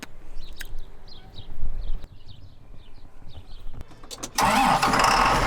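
A farm tractor's engine cranks and catches, the start-up loud and close near the end after a stretch of quieter mechanical knocking and clatter.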